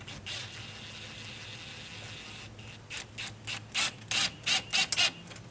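A 3.5-inch screw is power-driven into a stucco wall to mount a flagpole bracket. A low grinding hum gives way to a run of rhythmic, ratcheting bursts that grow louder toward the end. No one speaks.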